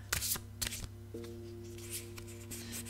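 Playing cards riffle and snap in a few quick bursts, then a steady low hum continues beneath faint handling noises.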